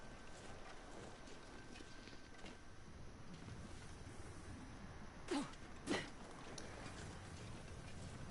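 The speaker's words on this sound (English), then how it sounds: "A bit of a snowy, windy day." Steady wind blows through a snowy, windy day in the survival video game The Long Dark, a constant broadband hiss with two brief, sharper bursts near the end.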